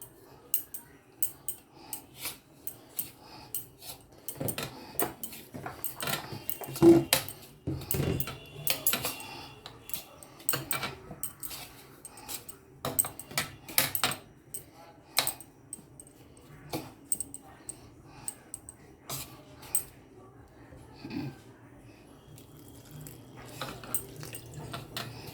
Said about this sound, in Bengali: শুকনো উপকরণগুলো ভালো করে মিশিয়ে নিচ্ছি।